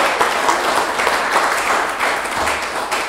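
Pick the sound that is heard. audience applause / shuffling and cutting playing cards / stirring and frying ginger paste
audience applause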